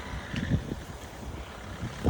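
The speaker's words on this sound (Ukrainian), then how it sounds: "У нас так холодно, вітряно." Steady low wind rumble buffets the microphone outdoors on a cold day, with gusty swells rising and falling throughout.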